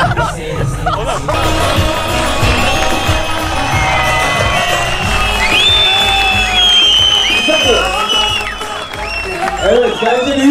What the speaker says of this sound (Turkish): bence büyük bir alkış hak etmedi mi?